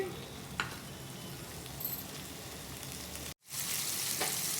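Food frying in a tablespoon of oil in a pan while being turned, a steady close sizzle with a few stirring scrapes and a momentary dropout, no talk.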